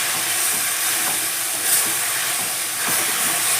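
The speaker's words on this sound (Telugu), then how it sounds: "వీటితో పాటు పుదీనా కూడా బాగా ఆయిల్లో ఫ్రై అయిపోతుంది." Mint leaves frying in hot oil for a mint chutney give a steady, dense sizzling hiss that holds evenly throughout at close range, with no talking.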